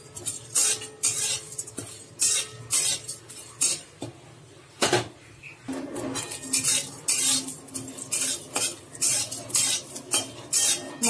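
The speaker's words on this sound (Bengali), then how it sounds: "দিয়ে মশলাটাকে ভেজে নিচ্ছি একটু হালকা করে।" Whole cardamom, cinnamon, cloves, bay leaf and cumin being dry-fried in a kadai for chicken kosa, heard as repeated metallic scrapes and clinks of a utensil stirring against the pan, with no talking.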